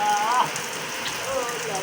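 Rain pours steadily outdoors as a constant, fairly loud hiss of drops on surfaces, with no voices over it.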